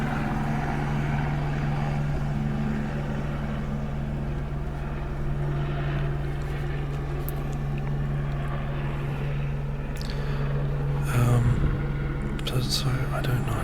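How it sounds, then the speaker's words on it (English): Helicopters flying around overhead outdoors, a steady low droning rotor hum that stays loud and constant throughout, with a whispering voice over it and a brief louder burst near the end. "All these helicopters flying around."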